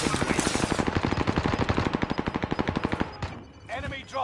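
Rapid automatic gunfire in the battle-royale shooter Warzone, a dense run of sharp bursts for about three seconds that then breaks off into a few scattered shots and muffled noise.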